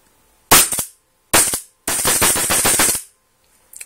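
An ANS Generation X Autococker paintball marker fires sharp close test shots: two quick rattling bursts, then a longer rapid string of cycling shots, and a faint tail at the end.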